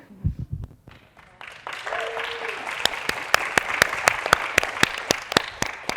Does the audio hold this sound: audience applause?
yes